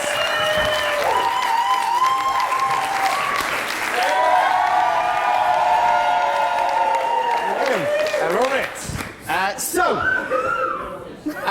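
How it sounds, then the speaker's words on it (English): An audience applauds and cheers a panel at a live event, clapping and crowd noise running under loud, clear voices, swelling mid-way and then breaking into scattered chatter and laughter near the end. "Will you give a big round of applause for our panel one more time?"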